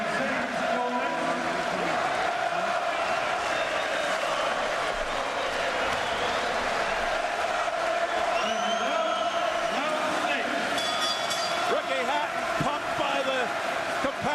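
Capacity crowd roaring at the Manchester Evening News Arena for the Kostya Tszyu vs Ricky Hatton boxing match, a dense continuous swell of cheering and shouts, with a commentator talking over it.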